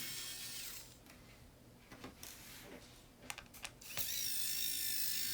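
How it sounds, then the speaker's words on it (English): Screws holding the drive in a Dell Inspiron 15 5378 laptop are worked loose with a small screwdriver, giving faint ticking clicks and a short burst of ratcheting, quiet and close with no speech. "So next I'm going to take out the drive. Should be, let's see, we got 4 screws holding that in there."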